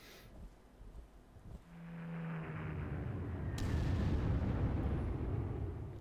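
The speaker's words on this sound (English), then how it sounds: "Constant bombardment" Artillery bombardment in the World War II strategy game Panzer Corps: a low, continuous rumble of heavy shellfire that builds after the first second and holds loud and dense, with no voices.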